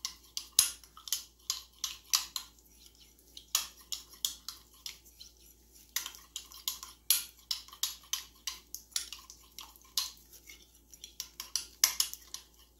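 A spoon clinks repeatedly against a glass bowl while stirring a homemade stretch-mark mixture with lavender essential oil, quick bright scrapes and taps in irregular bursts, close and clear with no talking.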